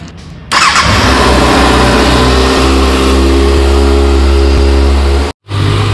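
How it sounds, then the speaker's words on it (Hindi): A 2024 Kawasaki Ninja ZX-6R four-cylinder sport bike fires up, and its exhaust settles into a loud, close, steady idle. The sound cuts out abruptly near the end, then picks up again briefly. "एग्जॉस्ट की आवाज़ सुनाता हूँ आपको इसका"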